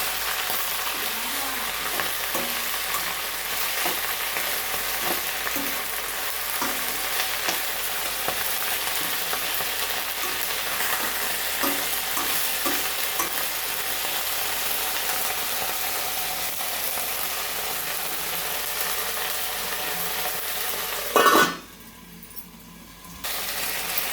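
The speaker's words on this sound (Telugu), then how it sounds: "పుదీనాకు కూడా ఇట్లా నూనెలో గోలించుకోవాలి" Mint leaves frying in hot oil with steady sizzling and crackling, light scraping strokes of a stirring spoon at intervals, close and fairly soft, ending with a brief louder clatter.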